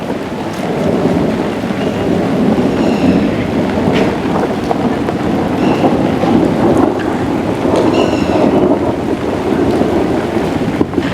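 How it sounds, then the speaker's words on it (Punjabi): Steady rain pours down outdoors at night as a storm gathers, with low rumbling thunder and gusty wind buffeting the microphone, a continuous loud wash of noise with no voices. "ਪੁੱਤ ਮੀਂਹ ਆਉਣ ਲੱਗ ਗਿਆ"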